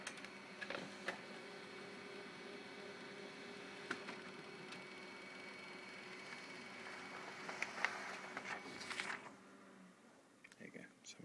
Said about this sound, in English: You can hear already that the printer is whirring